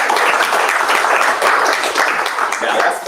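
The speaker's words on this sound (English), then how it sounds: "Please give them a round of applause." An audience at a live chapter launch event in Los Angeles claps in a steady, dense wash of applause that stays loud and even throughout.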